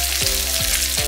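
Hot tempering is poured over pumpkin raita, giving a steady sizzle with a few quick surges, close and fairly loud, with no one talking.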